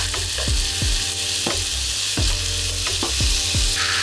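A pan of soup base with roasted vegetables fries under a steady loud sizzle, while repeated scraping stirs and occasional knocks of the utensil recur every second or so.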